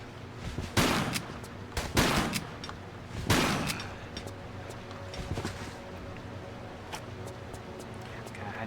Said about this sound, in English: I'm gonna shotgun this time.